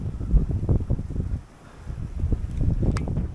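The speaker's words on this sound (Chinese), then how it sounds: "你看，大风大雨，" Strong wind and heavy rain sweep across Yong Belar, a high peak in West Malaysia, as gusts buffet the microphone in irregular low rumbling bursts, easing briefly midway before surging back.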